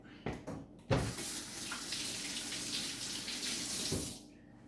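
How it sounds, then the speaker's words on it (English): A small Kershaw assisted-opening pocket knife held under a running tap, a steady close rush of water splashing into a sink after a few brief knocks, then cutting off at the end. "Needs to be rinsed off, but just rinsed it off."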